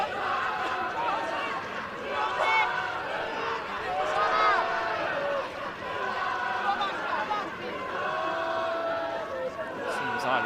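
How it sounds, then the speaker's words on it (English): Spectators at a women's under-18 rugby match between Italy and Scotland cheer and shout in a distant, diffuse crowd roar, rising and falling beneath a commentator's voice. "You can hear the fans cheering on the Scottish side"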